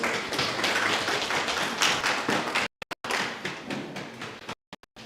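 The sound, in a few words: audience applause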